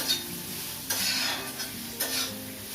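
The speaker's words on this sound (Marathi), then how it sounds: "आता कांदा थोडा भाजलाय" Onion with a pinch of salt sizzling in a pan for stuffed brinjal masala, with steady frying hiss and a few brief stirring scrapes against the pan, close and alone.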